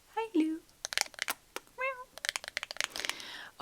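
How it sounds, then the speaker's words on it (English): A pet cat meows twice, with short rising and falling cries, as a soft, close voice talks and crinkling, tapping sounds fill the quiet room. "My cat is meowing in the background."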